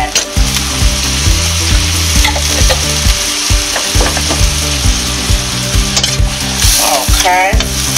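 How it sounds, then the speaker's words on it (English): Asparagus sautéing in a hot pan, a loud continuous sizzle with scraping stirs and a few clinks of a spoon against the pan, no talking. "give it a nice stir. And you just want to let this saute"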